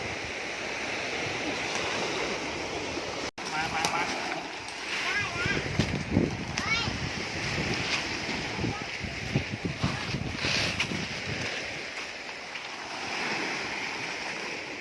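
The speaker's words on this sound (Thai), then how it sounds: "คลื่นก็แรงนะครับ" Strong surf rushes and crashes steadily along a shore, a dense roar with wind buffeting the microphone.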